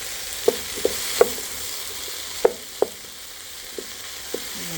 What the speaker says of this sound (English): I'm going to let that melt